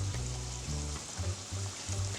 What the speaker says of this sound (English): So we're just gonna slowly fry them.